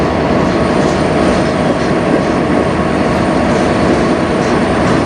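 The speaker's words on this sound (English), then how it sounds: "once this train finishes going through, this one will get his lights" A CN freight train rolls past at close range in Sarnia, Ontario, with a dense, continuous rumble and clatter of wheels and cars at a constant loud level.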